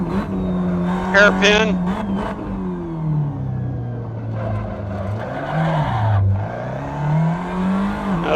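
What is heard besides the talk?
2010 Tatuus FA01 race car engine at full throttle, Assetto Corsa video game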